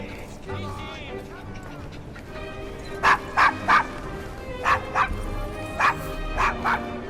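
A dog in Assassin's Creed Syndicate gives a run of sharp, yelping barks in quick bursts of two or three, mixed with softer whimpers, close and loud over a low game background.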